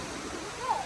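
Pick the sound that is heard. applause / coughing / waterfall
waterfall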